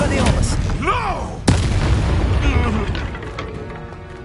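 A Confringo explosive spell blasts in Hogwarts Legacy, one loud sharp detonation with a rumbling tail amid swooshing spell effects and game sounds.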